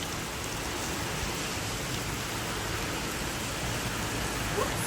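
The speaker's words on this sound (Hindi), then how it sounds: "बहुत तेज बारिश है" Steady, heavy storm rain pours down in a dense, even hiss that continues without a break, with no voices heard.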